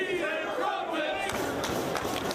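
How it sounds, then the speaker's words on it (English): A wrestling crowd in Dayton chants and roars during a professional wrestling match, a loud continuous rumble of many voices with rhythmic vocal surges, heard up close. "And hearing it from the crowd here in Dayton"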